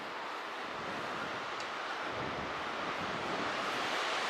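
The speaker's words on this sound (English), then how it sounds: "Can really hear the wind against those trees." Steady, broad wind rushing through trees outdoors, a constant loud whooshing roar with no voices.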